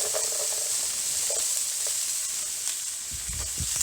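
Bagged onions sizzling in a generous pour of olive oil in a hot pan, a constant close hiss with faint crackles and a low knock near the end.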